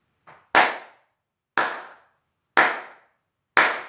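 A single person claps a rhythm in a music composition lesson: one soft lead-in clap, then four crisp, loud claps spaced about a second apart, close and dry with silence between.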